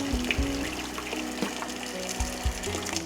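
Water runs steadily through the cold water line of a 2020 Winnebago Solis RV during de-winterizing, a continuous trickling and gushing flow with a few soft knocks, close and moderately loud with no talk.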